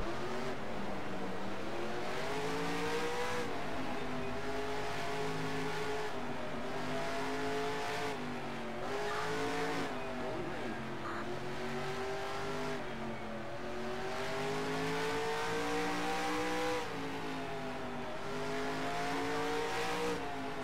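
Race cars in NASCAR Racing 2003 build up to pace speed with a steady, loud engine drone whose pitch rises and falls in waves for the whole stretch, and no voices are heard.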